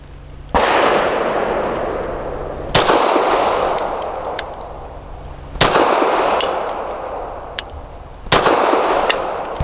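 Four sharp, loud shots from a Grand Power P1 Ultra pistol firing PPU 158 grain subsonic rounds outdoors, spaced a few seconds apart, each with a long ringing decay and faint metallic pings from a steel spinner target.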